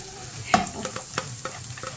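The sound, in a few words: garlic frying in oil for chili oil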